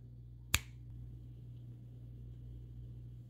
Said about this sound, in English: I'm going to snap my fingers, and the watch will be on my arm.